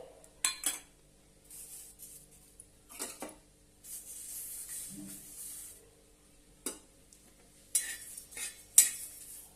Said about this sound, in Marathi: आता आपण ते हिरव्या मिरच्या भाजून घेऊया तवा गरम करायला ठेवलेला आहे मिरच्या घालूया त्यावर